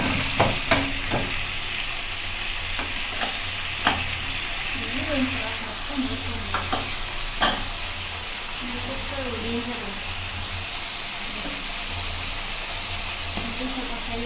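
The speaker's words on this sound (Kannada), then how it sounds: "ಇದು ಎಣ್ಣೆಲೆ ಚೆನ್ನಾಗಿ ಫ್ರೈ ಆಗಬೇಕು" Chicken fries in oil for a village-style pepper chicken fry, a constant close sizzle with occasional clinks from stirring, while a voice talks over it midway.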